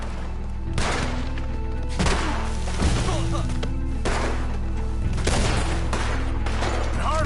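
Repeated gunfire from the video game Red Dead Redemption 2 at night, with about six loud, sharp shots spaced roughly a second apart over a steady low background hum.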